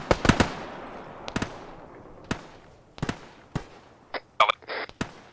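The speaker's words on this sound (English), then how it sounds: "marksman shooting at us, away from the camp" Rifle shots from a marksman in the Arma 3 video game crack out at irregular intervals, a few close together then spaced apart. The sharp reports sound moderately distant, with several fainter pops and no talking.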